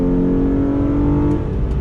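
A 2016 Hyundai Genesis Coupe V6 with an eight-speed automatic accelerates under throttle, its engine giving a loud, steady, rising drone close by with no one talking.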